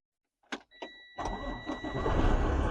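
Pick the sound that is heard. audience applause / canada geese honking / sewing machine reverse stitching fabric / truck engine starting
truck engine starting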